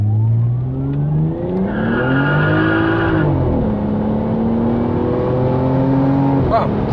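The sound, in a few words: Toyota Cresta JZX90 Tourer V accelerating to 100 km/h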